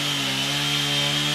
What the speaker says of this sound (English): putting them on the mill and making lumber for an outbuilding